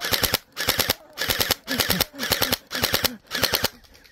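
YAGEE DGR LEI gel blaster toy gun firing full auto outdoors: seven short, sharp bursts of rapid clattering shots, each a quick rattling string separated by brief pauses, close and loud.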